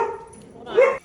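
Household dogs, likely goldendoodles, give a short burst of barking near the end, louder than the quieter indoor background before it.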